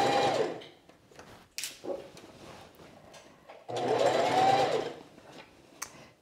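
A sewing machine stitches a sheath dress seam, starting with a backstitch, in two loud bursts of steady whirring separated by quieter pauses with small clicks and handling noises.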